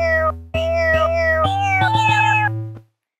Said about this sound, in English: cat sound instrument, how useful it is